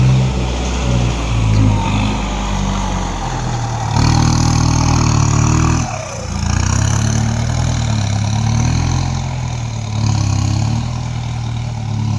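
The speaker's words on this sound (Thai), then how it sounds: "โบกรถเสร็จแกก็ไปเอารถไถมานะคะ" A tractor engine runs steadily close by, a low throbbing idle that rises and dips slightly in pitch, with no talking.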